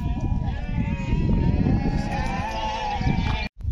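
Sheep bleat near a van parked in the countryside: a sustained, wavering, close bleat fills most of the moment, with a faint voice in the background before a brief cutoff at the end.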